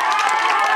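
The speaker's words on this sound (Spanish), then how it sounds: "Un aplauso para Agripina." An audience at a Christmas cultural festival breaks into a brief burst of clapping and cheering, a dense, bright crowd sound heard alone for under a second.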